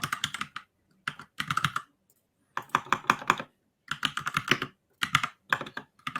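Rapid bursts of typing on a computer keyboard, close and crisp, with short pauses between flurries of keystrokes and no voices.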